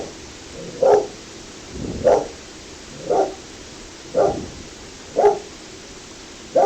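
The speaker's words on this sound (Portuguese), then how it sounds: "meu cachorro está latindo aqui" A dog barks indoors in six single, evenly spaced barks about a second apart, moderately close, with a low hum between them and no talking.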